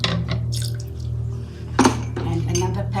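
Water splashes and sloshes as a coconut milk packet is rinsed out over a pot while cooking nasi lemak, with a low hum in the background and a brief louder splash partway through.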